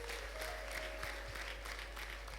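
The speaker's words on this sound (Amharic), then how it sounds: "እልልታ ጭብጨባ ለጌታ ክብር" A church congregation claps steadily during worship in a dense, fairly quiet wash of applause, with a thin sustained high tone running beneath it.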